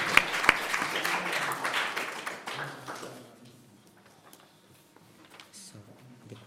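An audience applauds after conference speeches on copyright reform, clapping strongly at first and then fading away into a quiet room.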